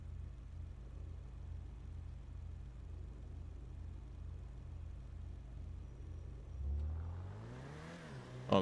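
A car in a video game idles with a low, steady rumbling engine, then revs up near the end in a short rising acceleration.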